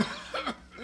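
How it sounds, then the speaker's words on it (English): A single rough, hoarse cough from an ailing man, close and fairly loud, with a short throaty tail and no speech around it. "That cough sounds worse than ever to me."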